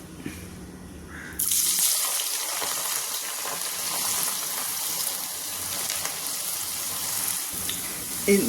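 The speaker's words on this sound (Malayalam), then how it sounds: "ഈ ചൂടായ എണ്ണയിലേക്ക് നമുക്ക് ഇത് വറുത്തെടുക്കാം" Jackfruit rags, the fibrous strands of the fruit, drop into hot oil and break into a loud, steady sizzle that lasts to the end.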